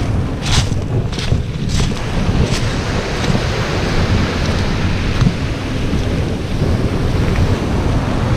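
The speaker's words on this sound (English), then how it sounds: "Nice big waves coming in." Rough sea surf rolling in and breaking steadily on the shingle at Hythe Beach in Kent, a continuous loud roar of big waves with wind buffeting the microphone throughout and no talking.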